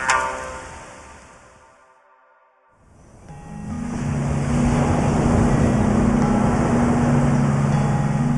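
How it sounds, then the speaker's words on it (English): Sea waves wash in outside a luxury tent on Moyo Island, a broad surf hiss that fades to near silence, then swells back and holds steady, with a low motor hum joining underneath. "it's the sound of the sea outside your luxury tent that wakes you"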